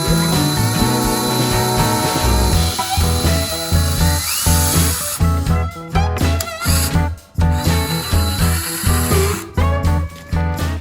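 Cordless DeWalt drill straining as it spins the oil pump to prime a Duramax diesel engine, a loud close high-pitched whine that stutters and bogs in uneven bursts.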